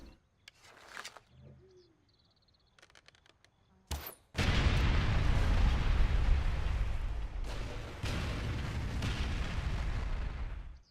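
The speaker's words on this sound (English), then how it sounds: "stage a really big explosion if you shoot that barrel" A red explosive barrel in Far Cry 4 is shot and blows up in a loud, sustained booming blast that roars for several seconds, with quieter in-game ambience and small bird-like chirps beforehand.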